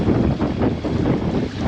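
Steady wind gusting and buffeting around a sailboat off the Aeolian Islands, with a continuous broadband roar of air and water pressing close to the microphone throughout.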